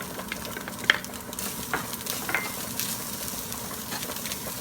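Garlic and onion frying with cooked ground meat for lasagna, a soft steady sizzle with a few light clinks and scrapes of stirring in the pan.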